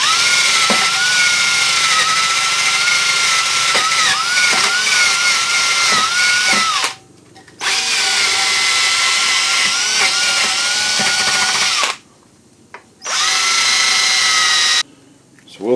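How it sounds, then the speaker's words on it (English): A wire wheel strips coating from the internal door parts of a 1970-81 Camaro, a loud harsh high whir with shifting pitch as metal is pressed against it, stopping briefly twice and then starting again. "the best way that I found to get rid of it is just a wire wheel"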